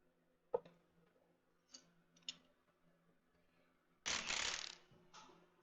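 A 9/16 wrench working on a stuck part of a Farmall 400 tractor gives a few faint, sparse metallic clicks, then a louder, brief rasping burst of turning and scraping.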